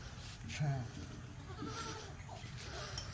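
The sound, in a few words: goat bleating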